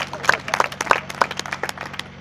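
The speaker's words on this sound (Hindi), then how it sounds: "इनको एक ताली बजा करके" Audience of villagers clapping for a young man during a speech at an Arya Samaj gathering, a short burst of loud, uneven claps close by, with voices underneath.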